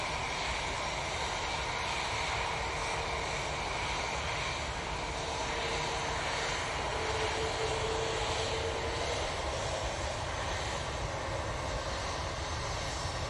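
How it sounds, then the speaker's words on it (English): A Ryanair Boeing 737 MAX 8 jet drones steadily at Manchester Airport, a constant broad engine roar with a faint high whine, unbroken for the whole stretch and free of talk. "So it's going off to Rhodes using 737 MAX 8."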